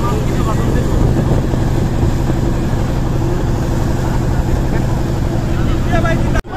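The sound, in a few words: motorized trawler boat engine on a river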